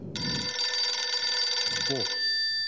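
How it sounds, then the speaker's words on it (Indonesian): A telephone rings with a steady, loud electronic bell tone lasting about two seconds, interrupted briefly by a voice near the end, during an indoor religious talk session. "ada telepon, boleh diangkat Ustadz?"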